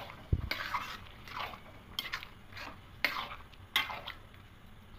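Spoon scraping and stirring through khichuri in a cooking pot right after a little sugar goes in, a series of soft repeated scrapes roughly once a second with a light knock at the start, close and fairly quiet.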